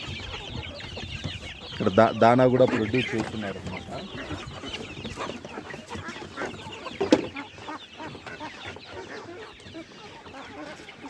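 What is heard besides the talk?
native country chickens clucking on a farm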